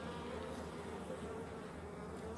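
A steady, close drone of honey bees buzzing continuously with no pauses, a dense insect hum filling the whole moment.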